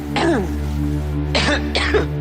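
A person clears their throat and coughs a few times, close and fairly loud, over a steady low background hum in a radio studio.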